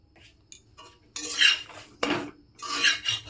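Homemade naan is flipped in a frying pan, with a few sharp metallic clatters and scrapes from the turner against the pan, separated by short quiet gaps.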